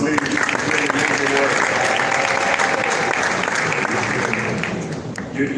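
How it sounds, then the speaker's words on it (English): A summit audience of young Africans gives a steady, dense round of applause that fills the room from start to finish, easing off slightly near the end. "A round of applause, please."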